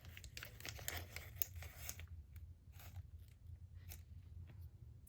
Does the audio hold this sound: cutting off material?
yes